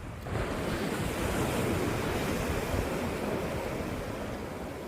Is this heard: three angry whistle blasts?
no